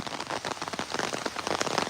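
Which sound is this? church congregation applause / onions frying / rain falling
rain falling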